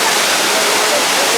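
Courtallam waterfall in Tamil Nadu, a loud steady roar of water falling from a height, broadband and unbroken, close and filling the whole scene.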